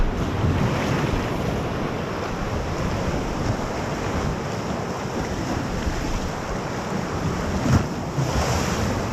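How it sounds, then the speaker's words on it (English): Rolling Lake Superior waves wash along a cliff-lined coast, heard from a sea kayak offshore as a constant, dense rush of water with faint wind and no voices. "I have no idea where these waves are coming from"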